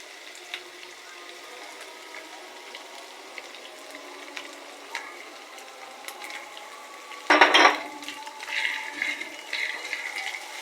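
Bay leaves, then ginger and garlic paste, fry in a pan for stuffed pitha, a faint, steady sizzle with a sudden louder hissing spurt partway through that stays livelier afterward.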